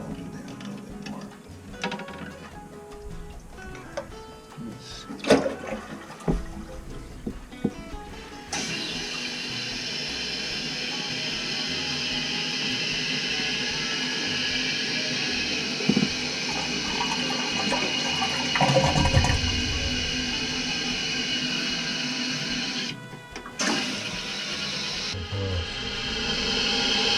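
A Kohler one-piece toilet with a newly installed flapper flushes with a long rushing gush of water, then refills, with scattered clicks and handling noises before the flush.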